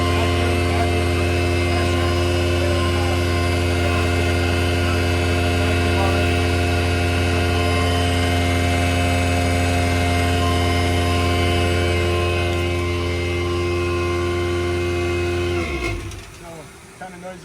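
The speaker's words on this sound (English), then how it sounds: "that's literally all it takes to turn this pump on" Steady loud mechanical drone of a hydraulic vacuum pump running on a vacuum truck, a constant tonal hum that holds for most of the stretch before dropping away near the end.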